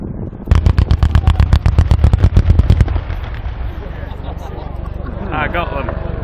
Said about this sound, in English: is now positioning by use of a return to target for a 30mm strike from the left